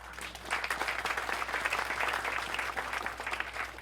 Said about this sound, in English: let's give him an applause anyway.